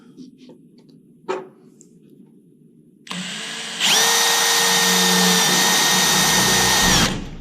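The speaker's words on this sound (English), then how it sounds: "So we're going to drill another one" A quiet room, a brief knock, then a power drill whirs up and drills a hole on a Nissan 300ZX build, running at a steady, loud, high whine for several seconds before stopping.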